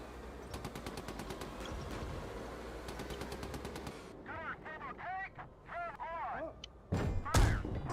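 A tank shell strikes an armored tank hull in a Cold War combat game, a sharp heavy impact crack that rises late out of sustained machine-gun bursts and scattered gunfire.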